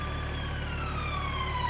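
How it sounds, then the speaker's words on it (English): Emergency vehicle siren wailing steadily with rising and falling harmonic tones, moderately distant and continuous over a low road rumble, with no voices. "Sirens and everything, not to do with me, I'm not speeding"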